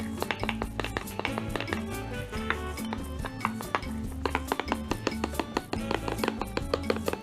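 Eggs, milk and the other pancake ingredients are whisked together in a bowl, producing rapid, continuous clicking and tapping of a utensil against the bowl, close and fairly loud.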